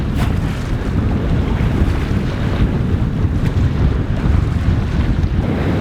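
Strong wind buffets the microphone aboard a sailboat motor sailing near the Strait of Messina, a loud continuous roar with low rumble and sea wash throughout, no voices.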